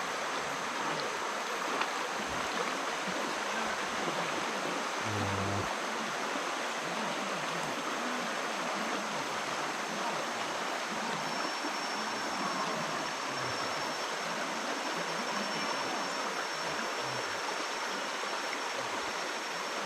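The Tutong River flows through the Borneo jungle in a constant rushing wash of water, loud and close, holding steady for the whole stretch with no talking.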